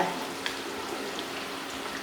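Chinese New Year dumplings deep-frying in hot oil, a steady close crackling sizzle with light stirring and no voices.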